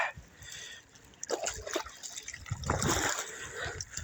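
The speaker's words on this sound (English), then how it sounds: "like to let water flow through places." Water trickling and splashing gently, with irregular bursts of dribbling that grow louder toward the end.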